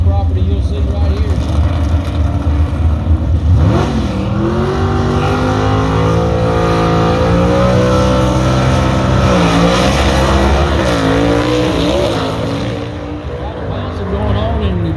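Gasser drag race cars making a run at a drag strip, loud, roaring engines revving and accelerating continuously, with rising pitch sweeps, under an announcer's talk.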